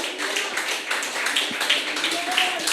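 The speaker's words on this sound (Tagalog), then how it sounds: "Palakpak kay Lord." A church congregation claps together in a quick, dense patter at moderate volume, with voices mixed in underneath.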